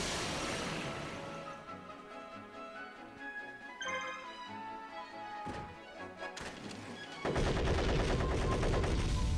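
Rapid game gunfire from a Robotic Knight in Yu-Gi-Oh! The Falsebound Kingdom, with bursts of repeated shots and impacts over synthesized music and effects, ending in a louder noisy blast.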